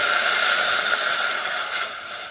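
Milk poured into a hot pot of Kashmiri kahwa for pink tea gives a steady, close hissing rush that eases slightly toward the end, with no talking.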